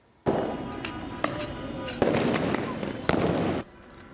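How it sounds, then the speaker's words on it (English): Flashbangs go off during a downtown Los Angeles protest against ICE raids, with several sharp, loud blasts ringing out over a sustained noisy background before it drops away. "Explosive flashbangs and clouds of tear gas filled downtown LA last night"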